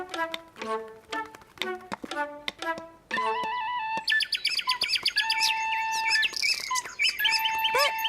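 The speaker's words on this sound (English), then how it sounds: "the naughty birds are squabbling." Naughty cartoon birds squabble by a birdhouse: a few sharp, spaced calls give way to a loud, busy tangle of overlapping chirps and squawks.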